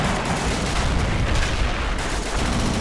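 Continuous loud battle din in Men of War: Assault Squad 2, with rapid gunfire, machine-gun bursts and artillery blasts blending into a thick, unbroken roar.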